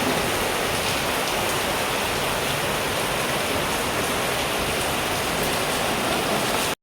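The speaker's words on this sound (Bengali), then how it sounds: "অঝরে বৃষ্টি নেমে গেছে।" Heavy rain pours down in a dense, even roar that stays loud and unbroken from start to finish, with no voices.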